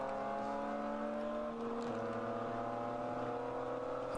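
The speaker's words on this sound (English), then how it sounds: "I can hear an engine noise there, an engine note" A race car engine at the VIR 24-hour endurance race drones steadily at a distance, a sustained mechanical note that shifts pitch partway through as the car approaches, heard alone without talk.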